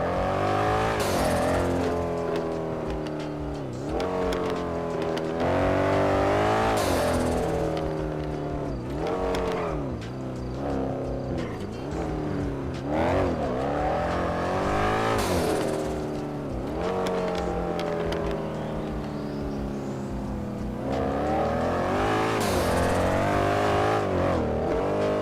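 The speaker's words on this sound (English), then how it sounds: "I love how this car sounds." A car engine in GTA 5 revs loudly and repeatedly, each climb in pitch followed by a gear-change drop, in a continuous run of acceleration bursts with no talk over it.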